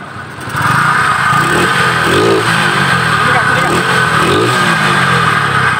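A motorcycle engine with a carburetor, fitted with new piston rings and valve seals yet still smoking white, revs hard and sustained as the throttle is opened wide, loud and close throughout.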